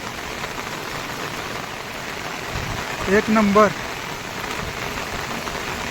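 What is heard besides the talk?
heavy rain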